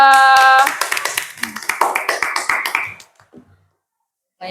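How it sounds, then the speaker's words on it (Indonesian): Applause from a classroom group for a presenting student team, a burst of hand claps in the middle that dies away after about three seconds, with a brief voice at the start and another sound resuming at the end. "Tepuk tangan untuk kelompok 2"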